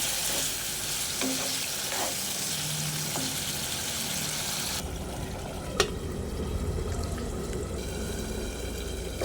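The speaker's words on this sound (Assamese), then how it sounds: "আৰু এতিয়া অকণমান ভালকৈ মিক্স কৰি ঢাকন মাৰি দিম" Chicken bhuna masala sizzles and is stirred in a pan, close and steady, with scraping strokes and one sharp clink of the utensil partway through.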